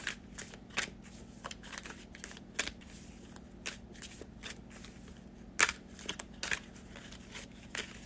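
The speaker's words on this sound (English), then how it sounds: "These cards like to be shuffled, I'm just saying." A deck of tarot reading cards is shuffled by hand in a steady series of crisp riffling snaps and flicks, close and clear over a low room hum, with no talking.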